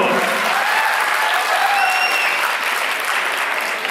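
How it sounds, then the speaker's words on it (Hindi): Loud, dense applause from the audience at an annual function for a residential society, sustained evenly throughout with a few cheers and whistles mixed in. "तो शाम की शुरुआत से पहले हमारे अपनों के लिए जोरदार तालियां बजा दीजिए"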